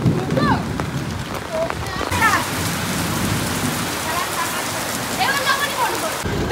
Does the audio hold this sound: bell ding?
no